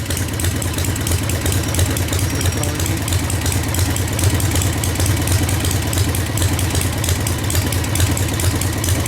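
A 1947 Harley-Davidson Knucklehead bobber engine runs steadily after starting, with a loud, continuous low-pitched rumble and an even idle throb close by.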